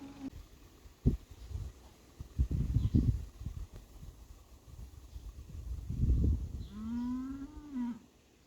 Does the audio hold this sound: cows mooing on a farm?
yes